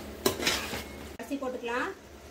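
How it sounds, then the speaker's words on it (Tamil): Chicken pieces stirred into fried tomato and onion in a pan, with a brief clatter of the utensil against the pot, soft sizzling, and a faint voice near the end. "இப்போ நம்ம சிக்கன் சேர்த்துக்க போகிறோம்"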